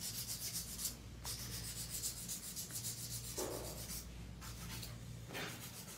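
Acrylic XXL tapered nail tips being filed by hand, a steady close rasping scrape that keeps repeating with no voices.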